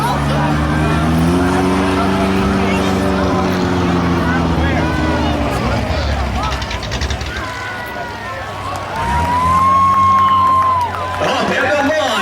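A Tuff Truck makes a racing run at South Sound Speedway, its engine roaring and revving through rising and falling pitches with crowd noise behind, while an announcer talks over it.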